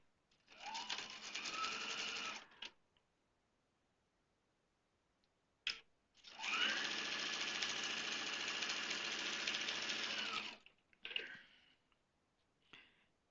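A sewing machine runs in two sustained bursts, a short one and then a longer steady run, chain piecing quilt fabric with a scant quarter-inch seam. A few brief clicks fall between and after the runs, with no talking.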